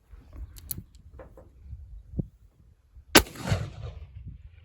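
A single sharp report from a cheap, worn chain-fire black powder revolver cracks out loudly near the middle, followed by a rumbling decay, with scattered clicks and handling noises before it.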